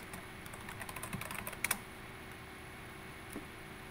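Computer keyboard keys tapped in a quick run of clicks during a programming session, fairly faint and close, followed by a single stray keystroke after a pause.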